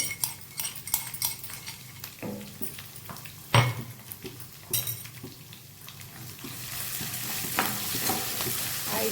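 Crushed garlic fries in oil in a pan, stirred with clanks and scrapes of a metal utensil in an uneven rhythm, while a hissing sizzle swells louder toward the end.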